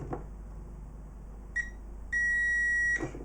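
Multimeter continuity tester beeping while probing a Bush CG-1532 Bluetooth speaker circuit: a short chirp, then a steady high tone lasting about a second, close and clear with no talk.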